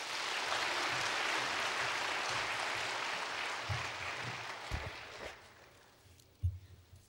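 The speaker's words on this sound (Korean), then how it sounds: "박수로 맞이해 주시기 바랍니다" Applause from a church congregation welcoming a pastor to the pulpit, a broad steady wash of clapping that fades over several seconds, with a few isolated low thumps near the end.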